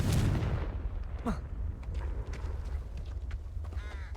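A Confringo fire-blast spell in Hogwarts Legacy goes off as a heavy, booming burst right at the start, then trails into a low rumbling tail with a few faint whooshes and ticks.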